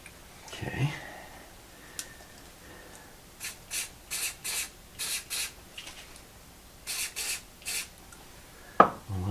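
Loctite activator sprayed onto bolts during a Mercruiser Alpha One U-joint bellows installation: a series of short, close hissing spray bursts in quick rhythmic groups, with a clunk near the start and a sharp knock at the end.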